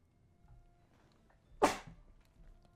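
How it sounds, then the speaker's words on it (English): A single sharp sneeze bursts out in a quiet room during a live game stream, brief and close against faint background noise. "I have to sneeze."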